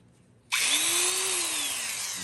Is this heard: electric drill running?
yes